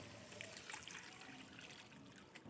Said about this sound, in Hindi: अब मैं इसके अंदर 1 लीटर पानी डालूंगा।